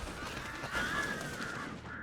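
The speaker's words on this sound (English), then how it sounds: "Birds." Crows cawing in Alan Wake Remastered, a few harsh calls over a steady ambient bed, moderately close with no talking.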